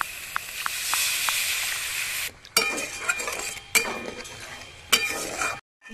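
Water goes into a well-fried spice paste with turmeric for an egg curry, giving a bright hiss and sizzle. Spoon strokes stir and clatter at intervals before the sound cuts out briefly.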